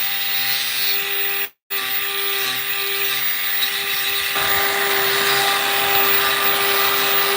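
A power tool grinds steadily while trimming the overlong hoof of a Jersey cross cow outdoors, a continuous loud whine with a brief cutoff early on and a slight change in tone partway through.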